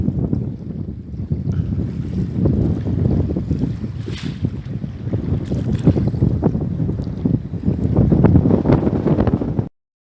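Strong wind buffets a solo sailing boat in the Solent, gusty rushing noise and microphone wind rumble mixed with water sounds around the hull, loud and continuous until it cuts off abruptly.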